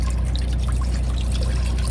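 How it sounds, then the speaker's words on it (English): Water poured into an Instant Pot inside a truck to cook rice, a steady soft trickling stream running throughout at close range, fairly quiet and unbroken by talk. "I'm gonna add my water."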